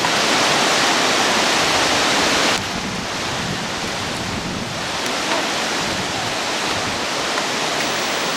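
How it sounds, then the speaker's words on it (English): Huaripampa River rushing along the Inca Trail in Peru, a steady broadband roar of flowing water that holds at a continuous level throughout, dropping slightly in loudness after the first couple of seconds. "we continue to hear both the Huaripampa River and the trains on their way to Aguas Calientes"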